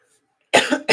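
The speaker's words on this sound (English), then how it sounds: "Sorry guys, I'm gonna cough" A person coughs loudly and close up in a quick burst after a moment of near silence, followed by the start of a second cough.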